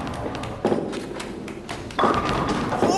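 A bowling ball strikes pins in a VR bowling video game, giving two or three dull thuds and a clattering tumble, moderately loud and without speech.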